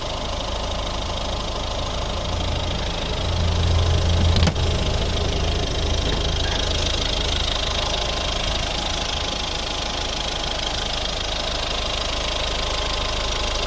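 Mazda 5 second-generation minivan with a 1.6 diesel Peugeot Citroën engine idling, a steady, even mechanical hum heard up close with a slight swell and a brief click partway through.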